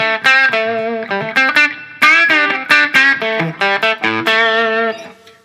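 Electric guitar played with an overdriven, crunchy tone: a run of loud strummed chords and single notes, each chord ringing briefly before the next.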